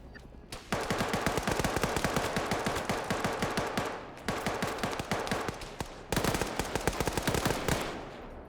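Rapid bursts of automatic gunfire from a multiplayer shooter video game crackle in dense, sustained volleys, broken by two short pauses, at moderate loudness and with no talk over them.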